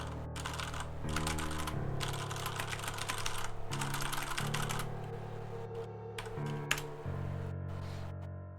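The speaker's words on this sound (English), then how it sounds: "No, it's an Alienware mechanical keyboard." Steady, rapid clacking of keys on an Alienware mechanical keyboard, close and fairly quiet, continuing without pause and with no talking.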